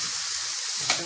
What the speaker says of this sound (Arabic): ابدا اشوح البصل كده بالشكل ده تشويحه خفيفه